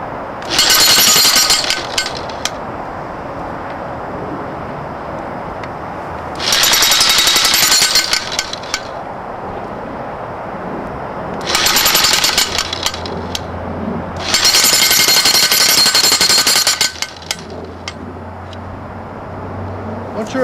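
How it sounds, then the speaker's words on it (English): A jackhammer drives a metal Oz-Post into the ground in four loud, rattling bursts of a few seconds each, with quieter pauses between them. "Moving it with the jackhammer so you're plumb."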